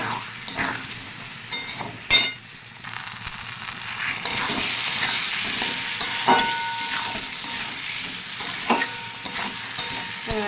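Aloo dum masala sautés in a pan over steady oily sizzling, with sharp spatula scrapes and clinks against the metal breaking in at uneven intervals. Close and fairly loud throughout, with no voices.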